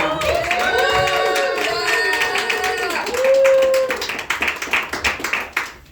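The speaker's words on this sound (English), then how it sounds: "Give another round of applause to Lisa." A comedy show crowd claps and cheers for comedian Lisa, scattered clapping mixed with whoops and a sustained sung or shouted tone, the claps becoming sharper and more separate toward the end.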